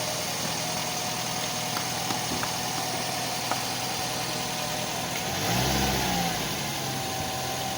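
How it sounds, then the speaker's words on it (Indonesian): A 2011 Suzuki Swift 1.5-litre M15A engine with automatic transmission idles steadily up close, a continuous mid-pitched hum with a brief low rev swell partway through. "begini suara mesin dari Suzuki Swift GT 2011"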